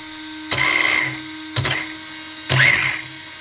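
An RC car's brushless motor, rated over 4000 kV, in a gyro-equipped car with a MIP diff, revs in three short throttle bursts, each a whining rise that quickly cuts off between pauses.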